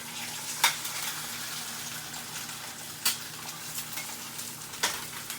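Eggs fry in very hot butter in a pan, a steady close sizzle running throughout, broken by a few sharp crackles and pops.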